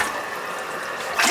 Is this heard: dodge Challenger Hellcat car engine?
no